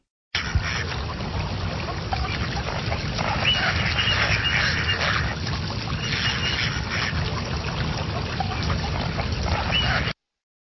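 A cartoon duck quacks in the Starfall quadrilaterals and triangles math game for children, set against a steady, busy backdrop of game music and effects that runs through the whole clip.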